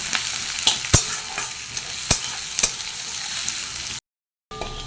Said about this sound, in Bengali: এইভাবে অনবরত নাড়তে হবে আর এইভাবে লাল লাল হয়ে আসলেই কিন্তু নামিয়ে নিতে হবে